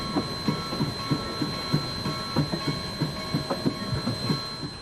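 Sumter Valley Railroad train rolling along the rails, a steady run of rhythmic wheel clicks and thumps at a moderate distance, with a faint sustained tone above, heard alone without any voices.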